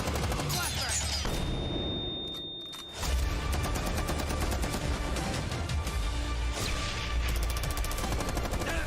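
A flashbang grenade goes off in a Rainbow Six esports match: a thin ringing tone and a brief hush give way to a sudden loud bang, followed by dense, rapid gunfire and clatter.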